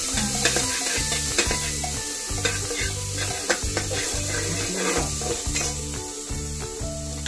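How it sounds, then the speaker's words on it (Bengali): Chopped beans, carrot, papaya and ginger-garlic sautéing in a pan for a home-style chicken stew, with a steady sizzle under repeated rhythmic stirring and scraping strokes, close and continuous throughout. "আমি জিনিসগুলোকে একটু সটে করে দিচ্ছি"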